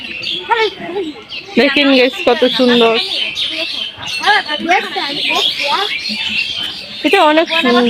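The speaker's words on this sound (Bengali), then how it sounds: "আর এখানে অনেক পাখি পাখি অনেক ডাকতেছে।" Many birds chirp and squawk in a quiet garden, with busy overlapping calls close by throughout while someone talks over them.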